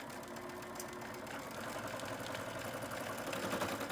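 A sewing machine stitches fabric for a bunny-shaped bag, a quiet, steady mechanical whir with a rapid needle rhythm running throughout, no talk.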